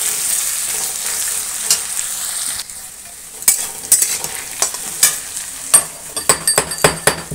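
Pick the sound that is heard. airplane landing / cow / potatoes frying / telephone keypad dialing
potatoes frying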